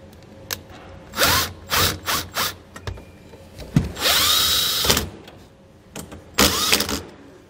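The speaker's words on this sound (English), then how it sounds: "get my self-tapping screws kind of started in there. And we'll tighten them down." A power drill drives self-tapping screws, several short close whirring bursts with ratcheting clicks and pauses between them, loud and alone without talk.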